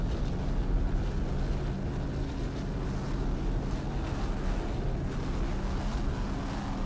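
A Mercury-powered 38-foot Skater powerboat named Spider-Man throttles through an offshore race, giving a steady, loud broadband engine roar mixed with wind buffeting and water rush, with no talk.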